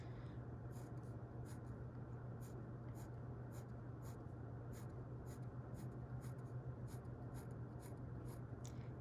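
A pencil or pen sketches a fraction diagram by hand, dividing a whole into 15 pieces, with steady scratchy strokes and short taps running continuously over a low constant hum, with no talking.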